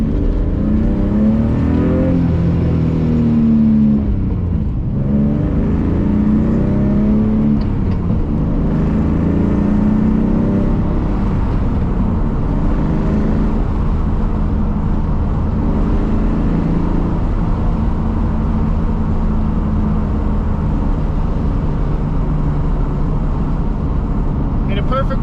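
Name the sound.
BMW E46 M52 engine exhaust with headers, driving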